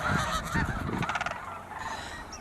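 A flock of snow geese and Ross's geese at Bosque del Apache National Wildlife Refuge, honking loudly and repeatedly in overlapping nasal calls close by.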